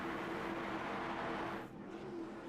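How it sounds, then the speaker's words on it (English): V8 race cars roar on a short oval track under night racing conditions, a dense, steady engine drone with a sustained tonal growl that dips briefly before continuing. "these V8s come roaring to life"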